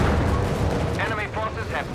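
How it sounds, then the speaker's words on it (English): Heavy auto cannon and machine gun fire in the World War II strategy game Company of Heroes 3, a dense, loud barrage of booming bursts and rapid rattling shots continuing throughout. "Heavy auto cannon and machine gun fire is just decimating them"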